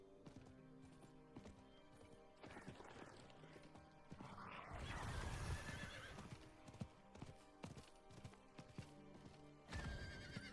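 A horse in a video game whinnies while its hooves clip-clop in steady rhythmic beats, with a louder burst of movement partway through and another sharp neigh near the end.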